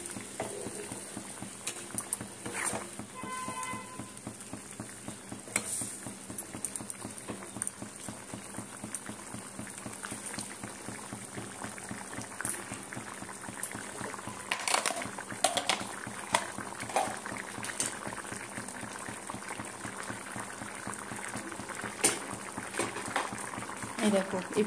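Hot water and chickpea curry bubble steadily in a pot, a soft continuous patter of bursting bubbles with occasional sharper pops and clinks, close by and low in level.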